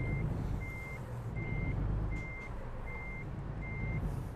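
Truck reversing alarm in American Truck Simulator, six evenly spaced electronic beeps repeating over a steady low diesel engine rumble as the rig backs into a spot.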